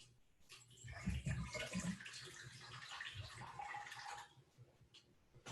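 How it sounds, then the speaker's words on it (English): Water poured from a tap into a pan holding tofu, a rushing, splashing stream that swells then steadies over several seconds, close by with no talking. "I'm going to put a little bit of water in"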